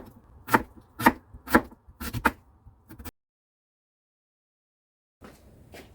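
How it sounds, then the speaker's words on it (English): Knife slicing half a sweet potato thinly on a cutting board: five crisp chopping strokes in a steady rhythm, then a pause and a few more cuts near the end. "Thinly slice 1/2 of sweet potato."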